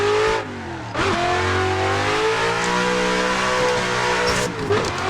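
BMW E36 drift car in Assetto Corsa, engine revving loudly and continuously with rising and falling pitch as the throttle is worked, tires squealing faintly underneath, no speech.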